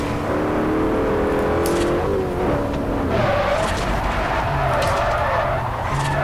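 Car engine revving and accelerating in the racing game Forza Horizon, with tires skidding and squealing, a continuous loud drive with shifting engine pitch and no speech.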